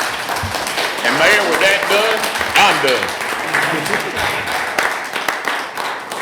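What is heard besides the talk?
applause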